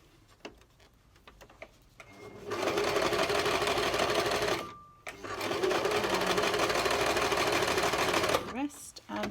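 A domestic sewing machine stitches a sock monkey in two long runs of fast, even mechanical whirring separated by a brief pause, with soft handling clicks before and a short reverse burst at the end.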